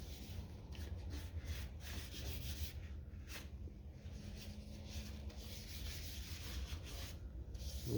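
Steady, soft rubbing of a cloth applying Howard's Citrus Shield oil finish onto a wooden carving axe handle, continuous and close with no talking.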